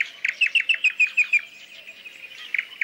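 A nightingale sings a rapid series of bright, repeated chirping notes, then pauses and adds a couple more, clear and fairly close.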